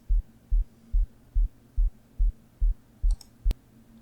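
A deep, pulsing synthesized sine-wave sub-bass tone for psytrance thumps in a steady rhythm, about two pulses per second, with a sharp click near the end.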